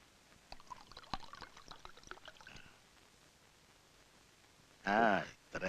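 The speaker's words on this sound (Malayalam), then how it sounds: "വെള്ളം ഒഴി." Water poured out in a short, close splash burst at a home, following a stretch of quieter talk and movement.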